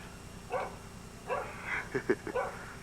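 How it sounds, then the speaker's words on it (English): The neighbor's dog barks outdoors in a snowy housing area after a heavy storm: several sharp barks in uneven bursts, moderately close, with short yips and quiet gaps between them. "That's the neighbor's dog barking."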